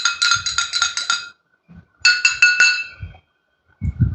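Glass clinking as oil and water are stirred in a drinking glass, two bursts of rapid, bright, ringing taps close by, separated by a pause, with faint low handling thumps between.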